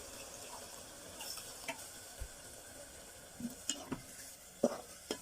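Broth poured into dried fish curry in a pan and stirred, a faint low sizzle with a few soft clinks and scrapes of the spoon against the pan.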